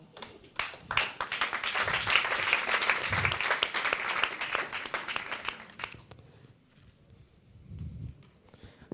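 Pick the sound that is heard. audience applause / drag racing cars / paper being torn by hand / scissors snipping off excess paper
audience applause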